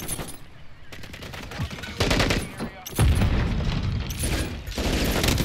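A gun fires repeatedly in Modern Warfare gameplay, with bursts of rapid shots and heavy booming impacts in uneven clusters. A player's voice partly overlaps the gunfire.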